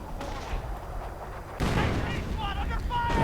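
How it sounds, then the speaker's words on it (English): Artillery fire in a World War II real-time strategy game, a run of deep booms and rumbling blasts with a sharper burst midway, set under a commentator's voice. "And more artillery in an attempt to break Sandland's final line."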